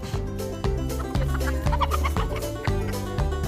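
Repeated clucking of chickens mixed with a steady, rhythmic musical backing, fairly loud and continuous throughout.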